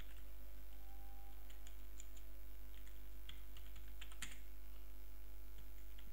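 Sparse, faint keystrokes on a computer keyboard, a few scattered clicks and a short cluster of taps in a quiet room with steady low hum.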